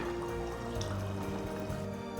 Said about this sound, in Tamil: இந்த டைமில் 2 கப் அளவுக்கு அரிசி ஊற வடிகட்டி வச்சுருக்கிறத சேர்த்துக்கிறேன்